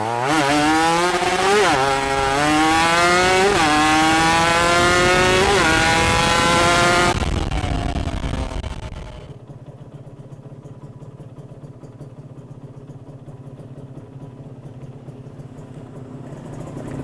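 A cold Kawasaki Ninja two-stroke engine revs hard in rising, falling sweeps with a buzzy, raspy tone, then drops back to a steady, quieter idle, close and alone.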